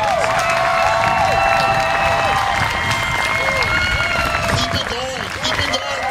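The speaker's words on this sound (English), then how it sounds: "As loud as you can, please give them a round of applause." A youth poetry audience claps and cheers for students, loud sustained applause with whoops and shouted voices mixed in throughout.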